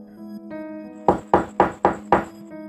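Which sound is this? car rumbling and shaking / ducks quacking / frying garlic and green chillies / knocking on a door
knocking on a door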